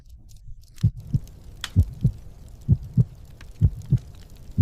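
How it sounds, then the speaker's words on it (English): A steady heartbeat thumps in low, muffled double beats, about four pairs evenly spaced over a faint background hum. "Sound dies, replaced by heartbeat drumming through smoke."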